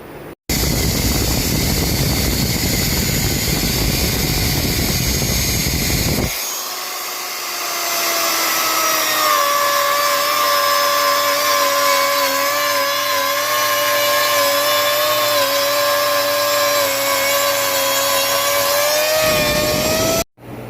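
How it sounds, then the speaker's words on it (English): A wood router starts up and cuts buttonholes in 3/4 inch plywood, with a tight fit. A loud, steady high whine with harmonics holds for about thirteen seconds after a broad noisy lead-in, and no one talks. "start up my router. It'll probably chunk around a little bit because it's a tight fit"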